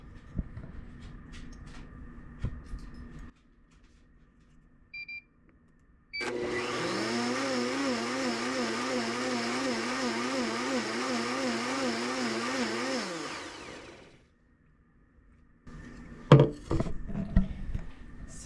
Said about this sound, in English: we're gonna hit that blender to distribute the agave syrup